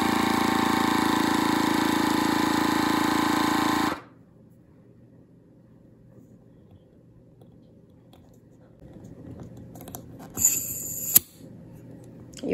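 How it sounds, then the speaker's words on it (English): NutriChef vacuum sealer pumping air from a jar of sugar, a loud steady motor drone that stops abruptly, followed by faint low hiss and a few soft clicks and handling noises. "vacuum sealed, sugar here."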